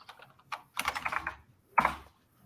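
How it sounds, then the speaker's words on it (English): Keystrokes clatter on a computer keyboard in a few quick bursts with short pauses between them, close and fairly loud, with no talk over them. "Yes, that's my keyboard again."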